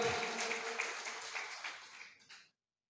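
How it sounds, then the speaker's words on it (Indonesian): A church congregation applauds during a worship service, a dense wash of clapping that holds steady and then fades out over about two and a half seconds before silence. "Yang setuju tepuk tangan buat Yesus Kristus."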